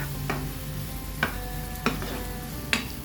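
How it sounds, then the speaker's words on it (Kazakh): Onion and carrot fried in a pan with oil and a slice of butter, a steady sizzle broken by four sharp scrapes of a spoon stirring against the pan. "Жақсылап араластырып қуырамыз"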